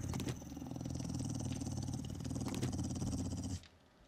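Dog growling in the 7 Days to Die video game, a steady low rumbling snarl running continuously for several seconds under other game noise, then cutting off abruptly near the end.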